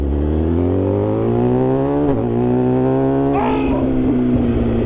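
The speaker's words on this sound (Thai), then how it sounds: "แต่ท่อนี่แบบว่าเสียงกระหึ่มมากเลยนะ เดี๋ยวควิกชิปให้ดู ควิกชิปแบบเสียงแบบเท่มาก" Motorcycle with a loud aftermarket exhaust revving hard, the engine roar climbing steadily, with a quickshift cut and crackle near the middle and another toward the end, loud and close with no talking.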